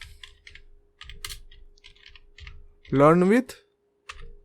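Python code typed on a computer keyboard, quick close clusters of key clicks broken by short pauses, with a burst of speech partway through.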